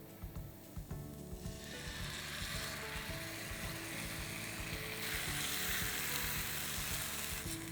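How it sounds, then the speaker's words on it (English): Tomato puree hitting a cooked-down spice paste in a pan for egg pomfret, giving a steady soft sizzle and frying hiss with some stirring scrapes early on, no voices. "So now I'm going to add some tomato puree."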